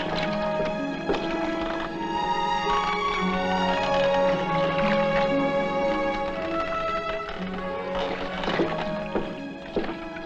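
Horses are led off a heavily loaded river ferry, with steady clip-clop of hooves, whinnies and dense bustle over continuous background music, loud and busy throughout.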